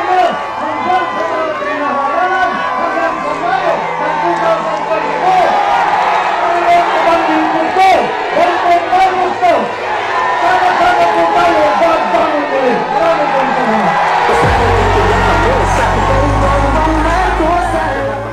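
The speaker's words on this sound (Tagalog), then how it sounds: "ang lakas ng sigaw nyo sa araw na ito" A large crowd at a political rally during a nationwide motorcade and caravan shouts and cheers loudly and continuously, with whoops rising over the roar and a speaker's amplified voice breaking in near the end.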